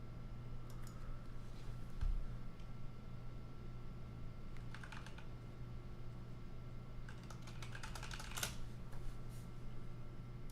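Keys tapped on a computer keyboard in sparse, irregular bursts of clicks, quiet and close, over a steady low electrical hum with no speech.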